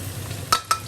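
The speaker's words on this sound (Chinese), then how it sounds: "把它炸成葱油酥" Small shallots frying in lard with a soft constant sizzle, broken by two quick sharp scrapes of stirring, close and without talk.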